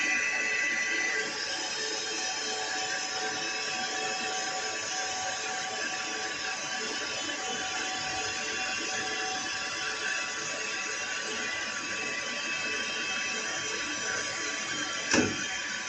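A metal lathe makes a final cut on a valve with coolant on the tool, giving a steady, even machining hum and hiss that runs throughout, with one short sharp click near the end.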